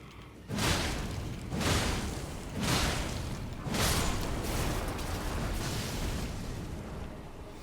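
Explosions in an Elden Ring boss fight against Morgott or Mogh, five or six heavy booming blasts in a steady rhythm, close and loud, each fading into rumbling, with no voices.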